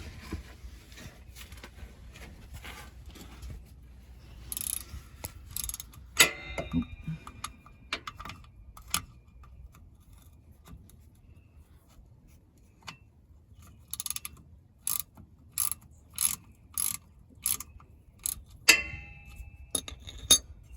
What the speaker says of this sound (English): It's just a 3/8 inch drive ratchet, and you just stick it here in the plug. And then you can just go ahead and break that loose.